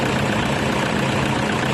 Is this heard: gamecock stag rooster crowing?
no